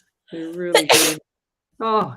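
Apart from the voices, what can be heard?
sneeze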